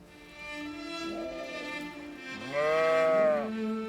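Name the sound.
Nubian goats bleating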